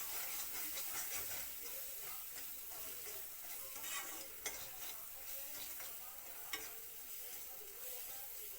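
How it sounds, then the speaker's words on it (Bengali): Spice paste fries in a pan for a Bengali mustard-and-stem curry, a quiet continuous hiss and sizzle with faint stirring scrapes and two soft sharp clicks, and no voices. "মশলাটা ভালো করে ভাজতে হইব"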